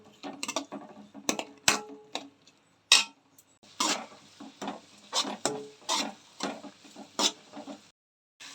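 Onions sauté in a pan for prawn biryani with repeated scraping and clinking stirs over a faint sizzle, close and intermittent, with no talk.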